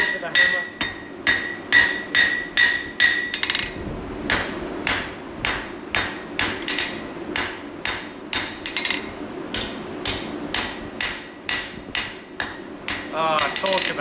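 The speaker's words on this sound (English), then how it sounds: "Coming in fairly heavy with the heel of the hammer." A hammer striking metal, alternating heel and nose blows, in a long run of sharp, evenly spaced, loud close hits with brief pauses between groups.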